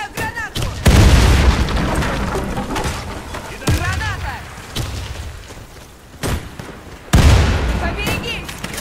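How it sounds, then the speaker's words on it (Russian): Grenade blasts in a team-based online shooter round, heavy booming explosions recurring several times amid gunfire, with a player's voice shouting over the loud, dense game mix. "Кидаю гранату!"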